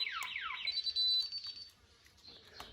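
A newly installed DSC home alarm system sounds off with fast descending electronic chirps that turn into a sustained high beeping tone, fairly faint, with a brief later beep and no talking.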